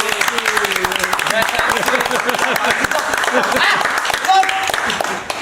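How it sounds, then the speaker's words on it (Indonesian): A studio audience claps for Aloy with a busy patter of hand claps, running beneath continuous conversation between people talking. "tepuk tangan dulu buat Aloy nih"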